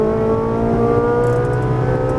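A Ferrari 458 Italia engine drones loudly and steadily close by on a racetrack, a sustained harmonic whine rising slightly in pitch as it accelerates and upshifts.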